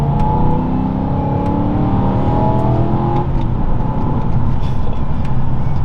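A Stage 2 tuned BMW E92 M3 pulls hard under acceleration, its engine note climbing steadily in pitch, loud and close, with a constant rush of road and wind noise beneath.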